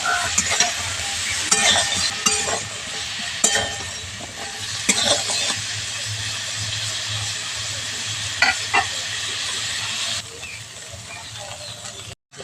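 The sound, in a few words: cauliflower and green peas frying and stirred in pan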